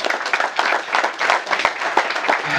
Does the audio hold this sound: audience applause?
yes